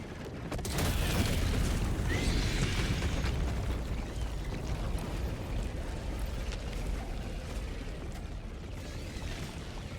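A Hellbomb detonates in Helldivers 2, a massive explosion erupting after a brief lead-in and rolling into a long, loud, sustained rumble that fades only slightly over several seconds.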